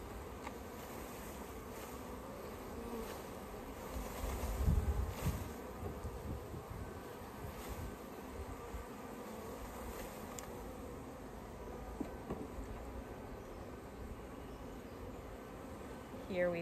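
A swarm of honey bees buzzing continuously around a hive box as a package of bees is shaken in: a dense, steady drone close by, with some faint talk underneath.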